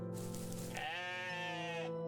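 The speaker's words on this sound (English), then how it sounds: "I think this goat is glitch." A glitched goat in the game OneShot gives a long, strained, wavering bleat that rises into a harsh, buzzy cry and holds for about a second before cutting off, close and loud with no talking.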